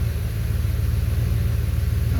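Rear-mounted turbo Audi RS4 engine idling, a steady low rumble held close and even throughout, with no voices.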